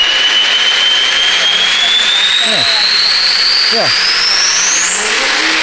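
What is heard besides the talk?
lifted Duramax diesel truck turbo spooling up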